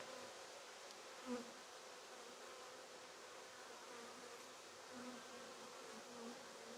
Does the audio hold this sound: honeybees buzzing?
yes